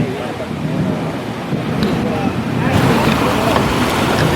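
Steady rushing of ocean waves and wind against a moving boat bound for Santa Catalina, a continuous broad wash of water noise with gusty wind buffeting the microphone.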